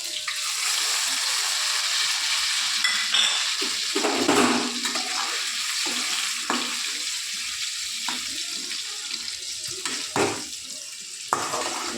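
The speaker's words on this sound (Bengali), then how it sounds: "এবার ম্যারিনেটেড চিকেনগুলো আমি ফ্রাই করে নিব।" Marinated chicken pieces frying in a pan give a steady, even hiss of hot oil throughout, with a few louder crackling bursts rising briefly above it and no talking.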